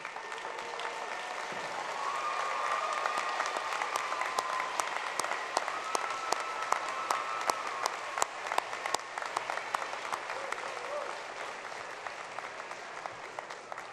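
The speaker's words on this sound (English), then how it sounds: "give them a big round of applause" Commencement audience at a university graduate ceremony applauding the faculty, a broad, sustained patter of many hands heard at a distance, fairly quiet and steady, with a few sharper individual claps standing out.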